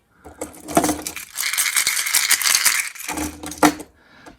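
A wobbler fishing lure similar to the Megabass Kanata 160 being shaken by hand, its internal balls rattling loudly in quick bursts with a short pause in between, up close and alone.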